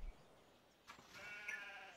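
A faint sheep bleat plays as an in-game sound effect in Civilization V, rising softly above a quiet, steady background ambience.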